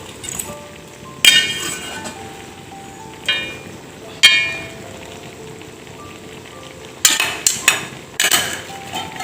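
A spoon stirs and mixes chakka aviyal, jackfruit and vegetables, in a pot, with scattered close clinks and scrapes against the vessel. Quieter stretches fall between the clinks, and a quick cluster of clinks comes near the end.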